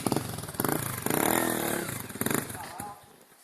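A trail motorcycle engine revs hard and close on a rocky riverside trail, surging in uneven bursts before backing off to a lower idle. Voices are heard around it.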